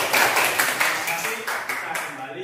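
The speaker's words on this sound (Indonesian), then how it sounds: "Tepuk tangannya." Classroom group applauding together, a brisk run of claps from several students at close range with a teacher's voice partly over it.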